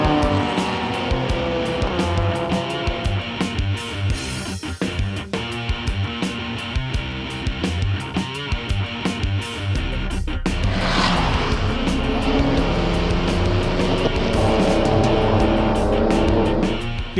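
A race car laps a circuit with a loud, sustained engine howl that rises and falls through the gears. The revving sweeps and passing roar are heard close, with no talk over them.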